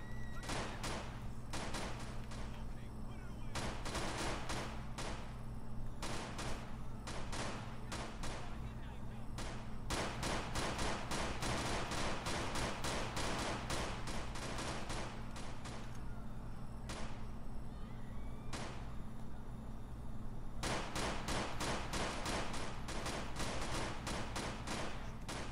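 Gunfire in the video game GTA IV: rapid bursts of shots come in dense clusters with short gaps, loud and close, and a voice talks intermittently underneath.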